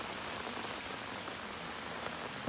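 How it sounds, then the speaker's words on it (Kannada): Steady, heavy rain pours down in a dense, even hiss of drops, continuous and close with no voices. "ಮಳೆ ಫುಲ್ ಜೋರು ಬರತ್ತೈತ್ರಿ"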